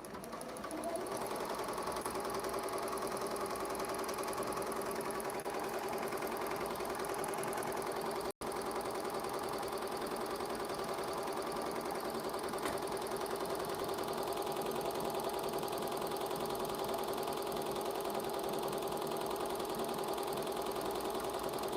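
A Ricoma embroidery machine stitches a logo onto a dad hat, a steady, fast mechanical chattering hum that runs without pause throughout, close and even in loudness.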